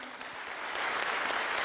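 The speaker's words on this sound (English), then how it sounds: "How about a round of applause for our panel?" Steady audience applause, a dense wash of many hands clapping that swells slightly louder toward the end, with no voices over it.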